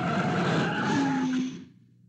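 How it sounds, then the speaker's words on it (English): Vehicle air brakes in the 1988 movie trailer for Ernest Saves Christmas release a loud, close, steady hiss with a faint tonal whine for about a second and a half, then cut off abruptly, with no voices. "Air brakes."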